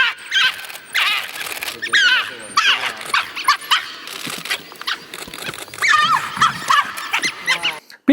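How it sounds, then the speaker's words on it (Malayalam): A dhole, the Indian wild dog, giving repeated short barks and yips in quick bursts, fairly close, with a voice talking alongside. "ഈ ഒരു കാട്ടുപട്ടി നല്ല കുരയ്ക്കുന്നത് ബാർക്ക് ചെയ്യുന്ന സൗണ്ടൊക്കെ എടുത്തിട്ട്"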